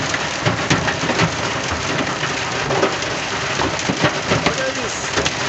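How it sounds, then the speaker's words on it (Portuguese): In a storm at Mauá da Serra, Paraná, hailstones pelt a truck cab, a dense, loud, continuous hammering of sharp impacts over heavy rain, with scattered louder hits throughout. "Olha as pegadas de granizo batendo na gabina."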